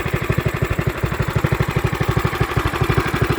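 A Predator 420cc engine on a homemade recumbent motorcycle runs with a shower-head style exhaust, giving a steady, close, rapid thumping idle with even pulses throughout.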